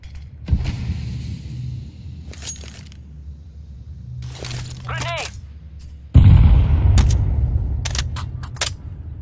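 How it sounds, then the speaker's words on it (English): A grenade explodes in Counter-Strike 2 with a sudden loud, close blast that rolls into a sustained roar and scattered debris, after quieter gameplay sounds and a voice. "Grenade!"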